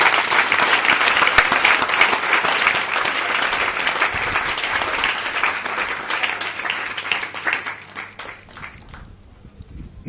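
A church congregation applauds for the Lord in a dense, sustained burst of clapping and cheering that stays loud for several seconds, then thins and fades toward the end.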